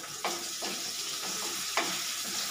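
Onions frying in a pan for bhindi masala, a steady sizzle with a few louder stirring scrapes at intervals, close and without talk.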